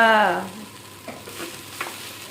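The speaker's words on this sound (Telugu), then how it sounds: "కలర్ వచ్చే వరకు వేయించుకోవాలి" Coriander leaves frying and being stirred in a pan for an Andhra-style pickle give a soft, faint sizzle with a few light scraping stir sounds, following a brief tonal sound at the start.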